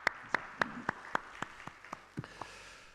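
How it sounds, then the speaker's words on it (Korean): A run of sharp claps at a steady beat from a congregation during a Korean Sunday church service, about ten crisp strikes in three seconds, fairly close, with no talking. "우리 박수함으로 영광을 한번 같이 올려드리길 원합니다"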